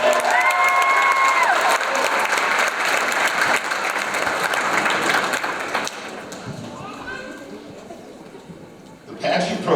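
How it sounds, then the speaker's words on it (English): Crowd at the 2022 Newport Winter Carnival Pageant giving a round of applause, loud sustained clapping with some cheering that gradually fades, voices coming in near the end. "Give it a round of applause"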